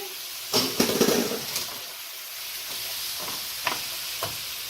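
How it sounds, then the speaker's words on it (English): Kalmati tomatoes dropped into a hot pan for clean-eating sloppy joes, giving a burst of sizzling and clattering stir noises, then a steady low frying hiss with a few soft clinks. "Now I'll put the Kalmati tomatoes in"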